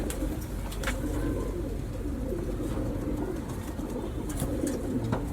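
Green-eyed pigeons coo softly in a loft, low and continuous over a steady hum of background noise.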